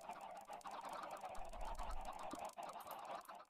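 Chickens cluck in the Minecraft video game amid a busy, noisy mix of game sounds, heard continuously throughout.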